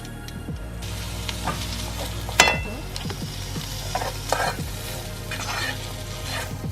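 Smoked salmon fries and sizzles in a pan as it is stirred in with egg, a continuous close hiss broken by a sharp utensil clack and several scraping strokes.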